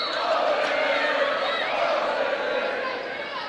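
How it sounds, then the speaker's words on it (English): Home crowd at a high school girls' volleyball match between Windsor and Cardinal Newman, a steady wash of cheering and chatter filling a gym, loud and continuous with no single voice standing out. "Newman crowd having fun."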